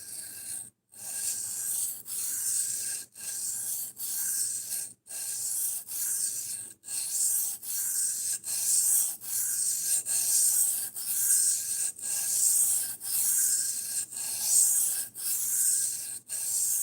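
Knife blade drawn repeatedly across a sharpening stone, a long series of rhythmic raspy strokes, each about a second long with brief pauses between, close and steady throughout.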